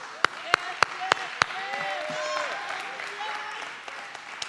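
A church congregation at worship: five sharp, evenly spaced hand claps ring out near the start, then a voice carries on over quieter background sound.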